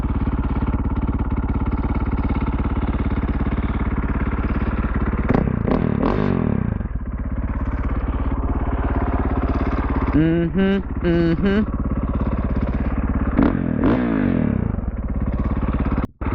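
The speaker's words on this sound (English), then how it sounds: "Listen how smooth that idle is." A KTM motorcycle engine idles smoothly and steadily at close range, giving a loud, even drone with a few brief mechanical clatters and scrapes partway through, then cutting off abruptly at the end.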